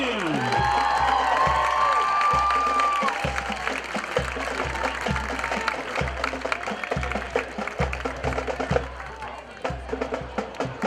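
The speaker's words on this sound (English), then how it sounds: "give another round of applause for the Danville 6th grade band." Crowd applause and cheering in the stands at a Friday night high school football game, Danville vs Mt Gilead, for a 6th grade school band, loud at first and thinning out, with a steady run of sharp claps.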